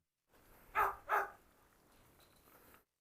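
Two quick, loud barks from a dog, a Dobermann or Cane Corso, close by, followed by a faint low whimper.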